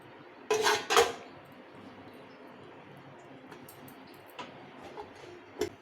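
Kozhukattai dumplings being set into an idli steamer pot, with two sharp metallic clanks near the start followed by faint scattered taps over a quiet room background.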